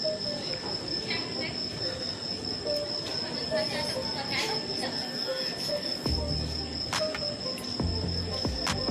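A train waiting at a railway station in Odisha, with a constant rumbling drone, a high steady whine and occasional metallic squeals and clanks, fairly loud and close, with background voices mixed in.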